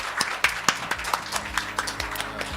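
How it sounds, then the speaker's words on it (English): Scattered claps from a small group, irregular and fairly close, thinning out into a sparse patter over a couple of seconds. "Let's give our presenters a round of applause"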